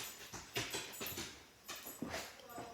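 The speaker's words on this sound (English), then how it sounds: "If you were hearing some noise, that is my dog, Cooper." Cooper the dog, just back home after a weekend away, whimpers and stirs in a few short, scattered bursts of fairly faint noise spread over a couple of seconds.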